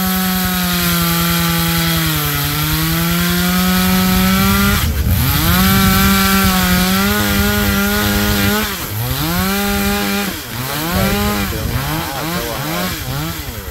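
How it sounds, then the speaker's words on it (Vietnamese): Loud, close chainsaw roaring as it cuts a large eucalyptus tree, the engine pitch rising and dropping repeatedly as the blade bites and revs. "Chúng mình lấy máy cưa cưa đó các bạn."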